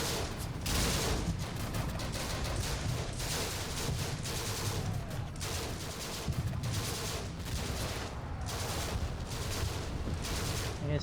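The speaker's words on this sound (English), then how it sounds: "Machine guns do still have targets that they're shooting at" Heavy, continuous machine gun fire in a World War II desert battle in Combat Mission: Afrika Korps, dense rapid bursts packed together and loud throughout, with other gunfire mixed in.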